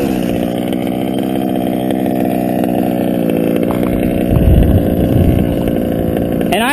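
An OBR 34 reed engine with a Walbro 1242 carburetor idles steadily up close, a continuous loud buzzing drone that roughens and surges slightly near the end.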